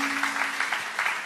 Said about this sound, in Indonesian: Tepuk tangan yang paling meriah.